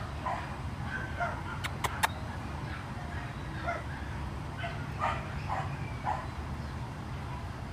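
A sweet, well-balanced rescue dog gives soft whimpers and a few brief yips, scattered through the clip at moderate distance over a steady low background hum.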